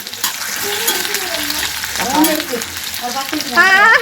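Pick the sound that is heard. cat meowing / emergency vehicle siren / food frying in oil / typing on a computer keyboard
food frying in oil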